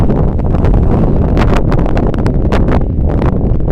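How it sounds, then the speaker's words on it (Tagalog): Loud, constant wind on a 48th-floor high-rise buffets the microphone in heavy gusty roars, with rustling and crackling bursts throughout. "Grabe na kasi ang hangin."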